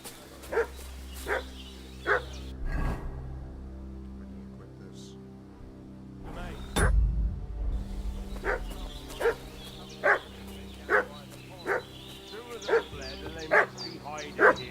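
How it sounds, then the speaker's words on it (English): A dog in Kingdom Come Deliverance 2 barks repeatedly at a steady pace, fairly loud and close, with game ambience and faint voices in the background. "What's that dog making such a fuss about?"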